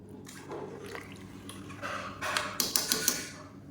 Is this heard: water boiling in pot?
yes